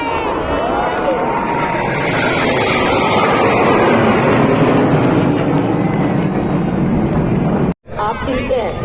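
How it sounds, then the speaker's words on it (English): Military jet formation roaring over the Republic Day parade in Delhi, a loud, sustained, broad rumble with a sweeping tone, heard amid crowd noise and commentary before a brief dropout near the end. "Up in the air, this formation is flying at 900 km per hour"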